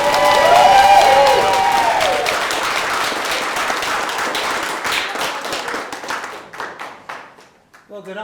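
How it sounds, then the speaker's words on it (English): Wedding guests applaud as the father of the bride is welcomed, loud clapping that swells at the start then thins and fades over several seconds before a voice begins. "please can we have a huge round of applause as we welcome the most important man in the room"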